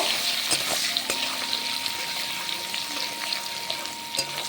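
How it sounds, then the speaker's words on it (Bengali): Cashews and raisins for wedding-style Bengali fried rice fry in hot oil, a steady close sizzle with occasional clicks of stirring and utensil taps, no voices. "জিনিসটা খুব ভালোভাবে ভেজে নেব"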